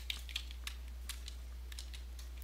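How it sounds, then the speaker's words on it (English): Soft, irregular clicks of typing on a computer keyboard, faint and close, in short bursts over a steady low hum, with no voices. "type in the name or the magnitude"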